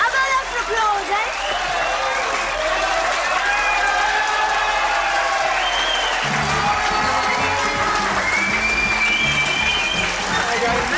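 Audience applause and crowd noise fill the space loudly for the whole stretch, a dense sustained clapping roar, with a voice talking over it in the second half.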